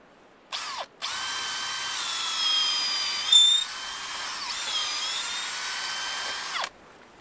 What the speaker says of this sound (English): So we're just going to drill a hole.